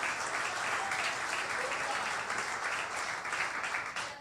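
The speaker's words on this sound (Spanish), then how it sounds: "Dele un aplauso al Señor" A church congregation applauds steadily and loudly in a dense, continuous wash of clapping, with a few voices calling out underneath.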